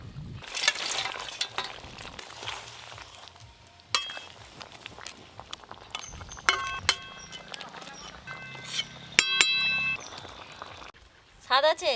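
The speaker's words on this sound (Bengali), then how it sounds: "ভেজে রাখা গোল্ডেন মাছগুলো এবার দিয়ে দেবো।" Fried goldfish pieces go into a spicy oil curry in a pan and are stirred, giving soft sizzling and scraping with sharp utensil clinks, while people talk throughout.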